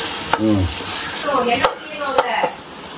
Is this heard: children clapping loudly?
no